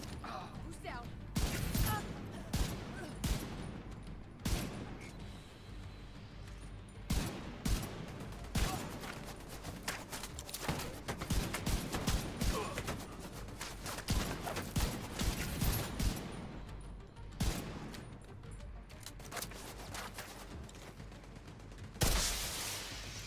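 Gunfire in the video game The Division 2: repeated bursts and volleys of shots with sharp crashes, loud and dense throughout, with people talking over it.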